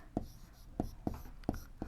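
Pen writing an answer by hand on paper in a math lesson, giving a series of short, distinct scratchy strokes in a steady, irregular rhythm, close and fairly quiet with no talk over it.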